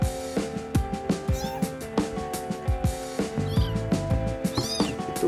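Twenty-seven-day-old pet kittens meow repeatedly as they play, giving short, high, rising cries over a steady tonal background hum, with a quick soft rhythm of small knocks in between.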